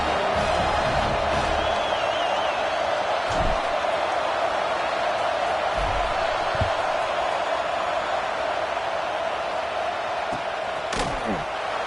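Stadium crowd at an Ohio State vs Clemson college football game, a steady loud roar of many voices filling the space, with a few thuds and slams breaking through.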